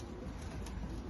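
Young checker racing pigeons, bred from borrowed stock birds, coo softly beside a loft, a faint low burbling under a steady background hum with nobody talking.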